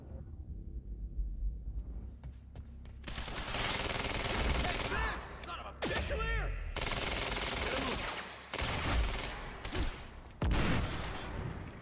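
Automatic weapons fire in the action game Quantum Break as dense, sustained bursts of loud, close shots and rattling fusillades that run almost continuously, with only short gaps and a quieter opening before the shooting starts.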